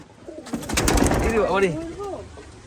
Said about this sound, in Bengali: কতগুলো পায়রা দেখুন এখানটায়।